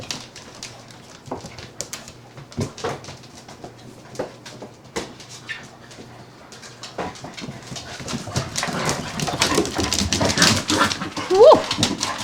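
Indoor puppies at play with balls, giving yips, soft whimpers and scattered thumps that grow busier and louder toward the end, with a brief higher squeal near the close.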